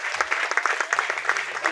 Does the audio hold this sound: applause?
yes